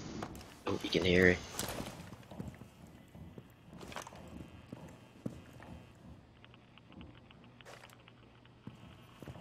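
Rapid sprinting footsteps in Rainbow Six Siege patter quietly and steadily across the clip after a brief louder burst of game sound near the start, with a voice talking at times.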